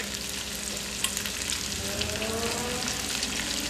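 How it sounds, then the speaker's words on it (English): Onions and garlic saute in a beer-deglazed pan for barbecue baked beans, giving a close, even crackling sizzle that holds steady, with a few faint scrapes. "We're going to add our onions and our garlics first, saute those"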